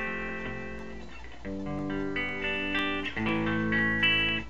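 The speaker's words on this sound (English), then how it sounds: "if you hit it light it's still clean" Lightly picked electric guitar played through a GDI21 amp sim pedal, staying mostly clean, with a sequence of sustained notes and chords at moderate volume and a slight edge on firmer strokes.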